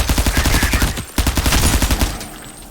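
Rapid automatic gunfire from the indie first-person shooter game Out of Action: loud, close, fast-pulsing bursts with a brief break near one second, then a second burst that trails off.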